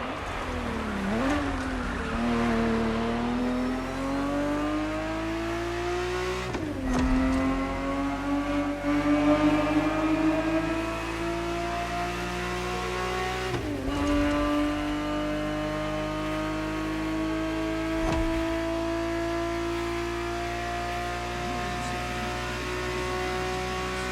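A Ferrari 365 GTB engine races in The Crew Motorfest video game, the loud, steady engine note climbing in pitch through each gear and dropping at shifts roughly every six seconds, with no voices.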